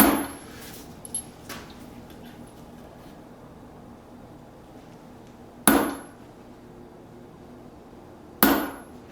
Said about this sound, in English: I'm going to go ahead and stamp the dates in them before I put the twist on them